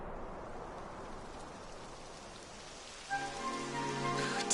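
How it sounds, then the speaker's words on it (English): Rain starting to fall during an uphill walk outdoors, a soft hissing wash of drops that holds steady and then swells louder toward the end as a sustained musical tone rises over it. "It would have to go and start raining, wouldn't it?"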